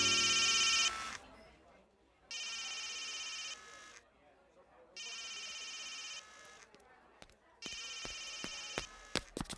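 A telephone rings in repeated electronic bursts, four ring cycles separated by short gaps, fairly close and clear, with faint background sounds between the rings.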